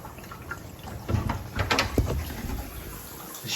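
Water leaking from inside a shower valve trickles and splashes onto a bath tap, a faint, uneven patter and dribble with a few brief louder drips, close by in a quiet bathroom.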